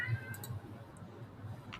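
A cat meows a few times at close range in a quiet indoor room, its short high calls standing out over a low background hum, with no talking.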